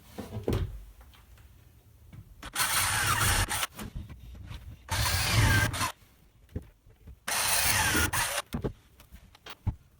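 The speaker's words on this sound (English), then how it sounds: "once I'm happy with the position of that drawer front, I can drill and put some screws in from the back" A power drill driving screws from behind into a wooden kitchen drawer front, three loud whirring bursts of about a second each, separated by quieter handling knocks and taps.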